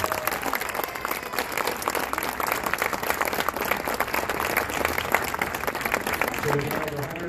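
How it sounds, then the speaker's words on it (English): An audience at a Cardinals Care grant presentation ceremony breaks into steady, dense applause. The clapping stays loud and even throughout, with scattered cheers mixed in. "Please give yourselves a round of applause."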